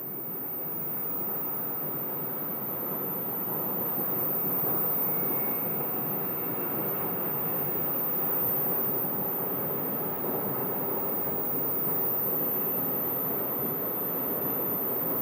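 A small passenger plane arrives at Phoenix Sky Harbor Airport after a short flight from Payson, Arizona, heard as a steady broadband engine roar and rushing noise that stays fairly constant and moderately loud throughout, with no talking.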